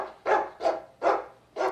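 Dog barking four times in a steady rhythm, each bark loud and close with short quiet gaps between.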